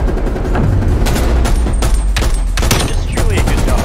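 Rapid gunfire in a Gunfight video game match, loud bursts and single cracks firing almost nonstop over a dense mix, with a commentator's voice talking underneath.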